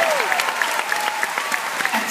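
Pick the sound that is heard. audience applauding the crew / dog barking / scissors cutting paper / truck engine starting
audience applauding the crew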